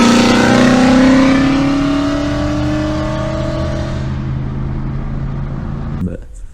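A loud Ford Mustang exhaust blares as the engine is revved lightly while pulling away, its pitch climbing and then easing into a steady drone before cutting off abruptly near the end.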